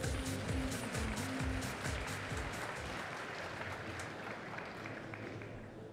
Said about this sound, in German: Dürfen Sie gerne einen Applaus hinterher schicken.